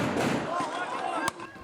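Fireworks are set off by protesters near Jerusalem's Al-Aqsa Mosque during clashes with police; a single sharp bang sounds over loud crowd noise and voices.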